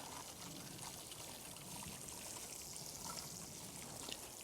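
Water poured from a watering can over three newly planted garden seedlings, a steady soft trickling splash running evenly and close throughout.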